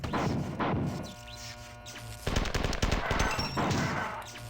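Gunfire from a weapon in the video game Marathon 2, with loud rapid bursts and crashing impacts over a low electronic hum, rising into dense continuous firing in the second half.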